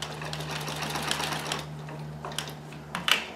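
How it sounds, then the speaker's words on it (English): Necchi Supernova Ultra freearm sewing machine running an embroidery stitch, a close, rapid mechanical whir that stops partway, followed by a few light clicks and taps. "So we might do one last embroidery stitch or"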